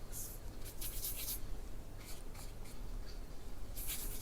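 Soft, dry brush strokes of thin gouache on paper during a forest painting, coming as brief scratchy swishes in loose bursts with quieter pauses between them, close and faint with no talking.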